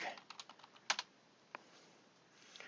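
Light, quick keystrokes on a computer keyboard: a short, irregular burst of faint clicks, with one slightly sharper tap in the middle, in a quiet room.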